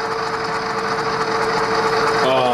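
A Rapido GMD-1 model diesel locomotive with an ESU LokSound sound decoder runs in reverse, its steady engine hum and motor whine continuing evenly throughout, with someone talking over it.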